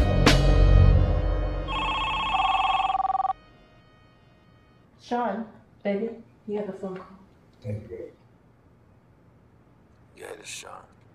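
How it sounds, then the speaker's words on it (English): A telephone rings with a bright electronic tone lasting a second or two, after an initial loud impact, followed by a few short stretches of talk. "Sean, baby, you have a phone call."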